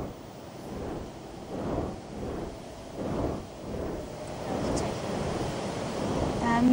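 Ocean waves roll below as a sound effect in the Knightmare TV show: rhythmic, surging washes of surf with a windy, rumbling undertone, swelling and fading in slow repeated cycles.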